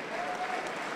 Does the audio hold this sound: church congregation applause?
yes